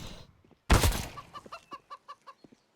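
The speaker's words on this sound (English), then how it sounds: "The chicken around him seems a little bit intimidated." A chicken clucking in Counter-Strike on the Inferno map, a rapid series of about eight short, evenly spaced clucks close by, following a sudden loud burst of gunfire-like noise, with no voice over it.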